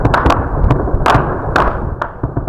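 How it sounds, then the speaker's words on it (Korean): Gunfire on a city street comes as scattered sharp cracks and thuds, about five or six shots at irregular intervals. They are fairly loud and sound somewhat distant, over a steady rumbling background. "곳곳에서 검은 연기가 피어오르고 총소리가 들립니다."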